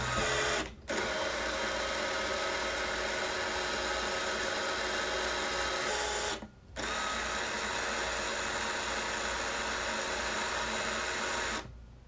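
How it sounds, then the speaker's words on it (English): The motorized zoom of a Super 8 film camera whirs in a steady, close mechanical hum, running in long stretches with two brief pauses as the motor stops and starts again. "there are these telephoto and wide angle switches that will let you zoom"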